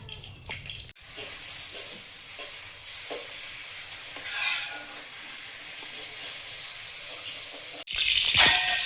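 Fish pieces go into a simmering curry of potato and Malabar spinach stems, making a bubbling, watery sizzle with occasional stirring, and the sound breaks off abruptly twice.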